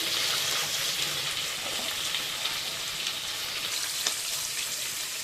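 Green chillies and onions sizzle steadily in hot oil in a pan, a dense, even crackle with a few sharper pops, close and moderately loud with no talking.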